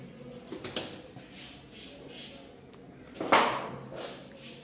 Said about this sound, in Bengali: বেশ কিছু কবুতর আছে এই যে দেখেন